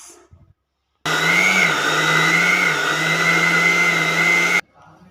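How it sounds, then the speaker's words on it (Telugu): A kitchen mixer blends aloe vera with curry leaves, a loud, steady motor whir that switches on abruptly, runs for about three and a half seconds with a slight pitch wobble, then cuts off. "అలవేరాని అండ్ కరివేపాకు రెండు కలిపి మిక్స్ చేస్తున్నాను"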